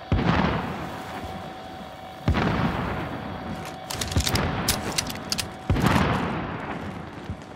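A set charge detonating in Call of Duty Warzone: heavy booming blasts at regular intervals with rumbling tails, mixed with crackling gunfire and clattering debris, loud and close throughout.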